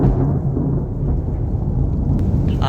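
Low, continuous rumbling thunder over steady rain in the mountains, loud and close, rolling without a break for the whole stretch.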